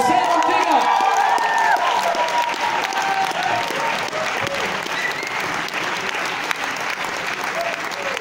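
Audience at a film premiere applauding and cheering for guests, a dense, loud wash of clapping with scattered whoops and voices, sustained throughout.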